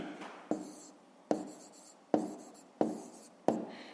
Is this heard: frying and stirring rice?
no